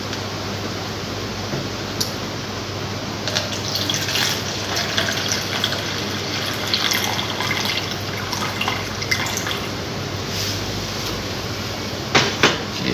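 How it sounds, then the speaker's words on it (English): Water poured into a lab tumbler up to 100 milliliters, a continuous close running pour with gurgles and a few drips, louder bursts near the end. "Okay, so I will pour this water until 100 milliliter."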